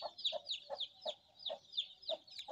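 A rooster and hen cluck in a steady, repeating rhythm of short calls, close and clear, with no voices.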